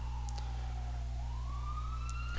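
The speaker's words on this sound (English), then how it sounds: "That is an ambulance, if you hear that." An ambulance siren passes outside, a clear wailing tone that dips and then rises again, moderately loud above a steady low electrical hum, with no talking.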